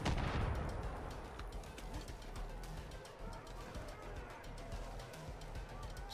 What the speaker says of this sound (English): Why are there mortars everywhere?